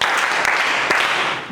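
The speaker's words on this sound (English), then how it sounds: "Clap for her." A classroom of students clapping for a classmate during a physics lesson, a loud close burst of hands that holds steady, then starts to fade at the end.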